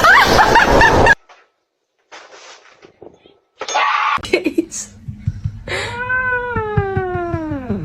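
Pet cats meow loudly and repeatedly, with a long drawn-out meow near the end, after a burst of noise and brief silence; a person speaks briefly amid the cries.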